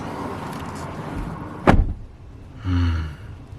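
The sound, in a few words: 2024 Toyota 4Runner TRD Off Road door closing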